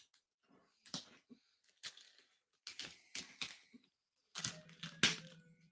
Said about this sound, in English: Use my Italian letter opener there